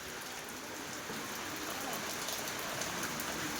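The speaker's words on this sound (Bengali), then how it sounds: "আল্লাহর রহমতের বৃষ্টি শুরু হয়ে গেছে" Steady morning rain falls in a continuous, even hiss of drops on surfaces, moderately loud and close, with no voices over it.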